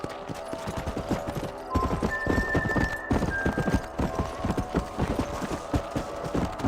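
Several horses galloping hard in Red Dead Redemption, loud rapid hoofbeats pounding throughout with a brief whinny-like tone partway through and a steady rumbling bed beneath.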